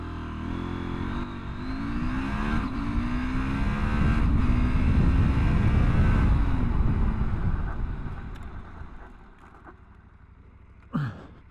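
A Husqvarna Norden 901 Expedition motorcycle accelerates hard from a standstill to 80 mph, its engine note climbing through the gears under heavy wind rush. It then fades as it brakes back down, ending with a short sharp squeal.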